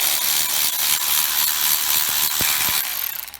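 An air tool whirs loudly and steadily close by as it spins engine mount bolts out of a car, followed by a few sharp metallic clicks and a sputtering wind-down as it stops.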